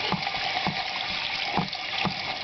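Running tap water pouring steadily in a kitchen sink while persimmon seed pulp is rinsed by hand, a continuous close gush with small splashes and no talk.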